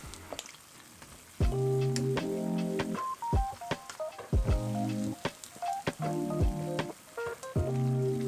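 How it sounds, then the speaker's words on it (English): Batter-coated potatoes deep-fry in vegetable oil at 170 degrees, a steady bubbling sizzle heard beneath a prominent melodic music track with plucked notes. "Fry for a few minutes till they get golden brown."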